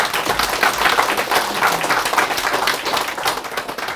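An audience at a colloquium gives warm applause for a foundation's supporters. Many hands clap in a dense, steady wash that holds evenly for several seconds.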